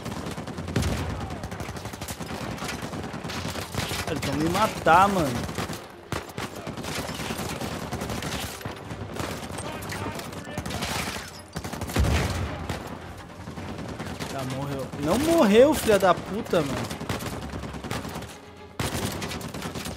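Gunfire from the video game Uncharted 4 rattles in bursts of rapid shots and fusillades throughout, with someone talking excitedly over the shooting.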